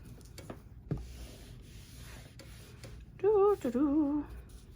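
An iron presses quilting fabric with soft, quiet rubbing and sliding strokes, a few light knocks, and a short warbling squeal near the end.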